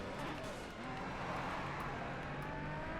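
Race cars in Race Driver: GRID racing around the docks, with fairly quiet, busy engine roar blending into a continuous rushing drone and a voice talking faintly beneath it.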